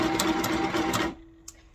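A WE R MEMORY Stitch Happy sewing machine runs steadily with a rhythmic mechanical whir and needle clatter for about a second, then stops abruptly, followed by a lone click.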